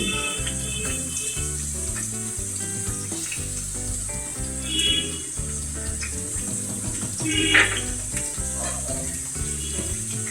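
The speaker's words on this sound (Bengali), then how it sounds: "এরপরে আমি এর মধ্যে দিয়ে দেব রসুন কুচি" Chopped garlic crackles and sizzles in ghee in a frying pan with browned potatoes, a steady loud hiss with bubbling pops and occasional utensil scrapes.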